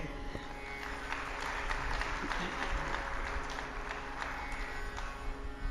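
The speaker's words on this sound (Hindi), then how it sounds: "हालांकि तालियां बड़ी कमजोर है" Sparse, weak applause from an audience at a spiritual talk on a Hindu scripture theme, a thin scattering of claps held at a steady low level for several seconds, fairly distant and without voices over it.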